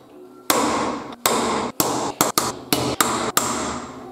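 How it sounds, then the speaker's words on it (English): Eight sharp hammer blows ring out on a metal Ford Model A starter, each strike followed by a brief ringing decay, loud and close, in an uneven rhythm. "give this a good whack with the hammer"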